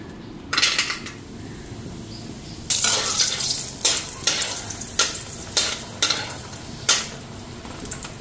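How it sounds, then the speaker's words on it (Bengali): Lentil dumplings (bori) frying in hot oil in a kadai, a steady close sizzle punctuated by repeated sharp spatula scrapes and metallic clatters against the pan. "তেলটাও গরম হয়ে গেছে, বড়িটা আগে ভেজে নিই।"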